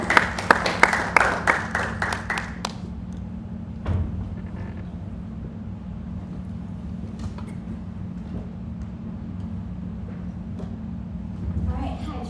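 Audience at a university youth speaker event gives a short burst of clapping that fades within about three seconds, followed by a quiet room with a low hum, a single knock and faint shuffling.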